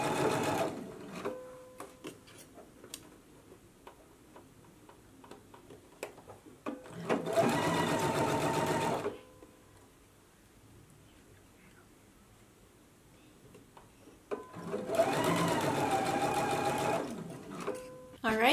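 A sewing machine stitching the sleeve binding onto a blouse at a half-inch seam allowance, in two steady whirring runs of about two seconds each separated by quiet handling, with someone talking in between.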